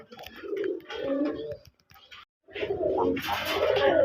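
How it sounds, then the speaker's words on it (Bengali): A male pigeon coos in low, throaty phrases close by, with a brief pause, then more cooing mixed with rustling. "আর যেটা ডাকাডাকি করতেছে এটা নর কবুতর।"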